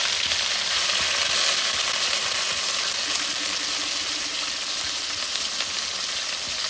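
Onion paste frying in hot oil for a Bengali prawn and pui shak dish gives a steady, dense, close sizzle that hisses evenly throughout with no voices.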